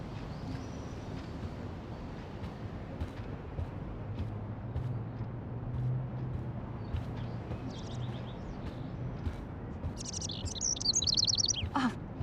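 A trapped bird chirps in short scattered bursts in the game Life is Strange, fairly faint over a steady indoor hum, with a louder flurry of tweets near the end.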